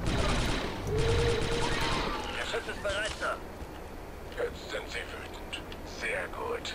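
Laser turret in Star Wars: Republic Commando firing a rapid, dense burst for about two seconds, followed by scattered game effects while a player talks quietly over them.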